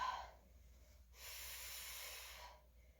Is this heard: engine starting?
no